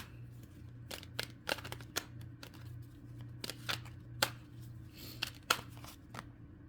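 Tarot cards being shuffled and drawn during a reading, a run of short crisp snaps and slaps at an irregular pace. A steady low hum sits beneath them.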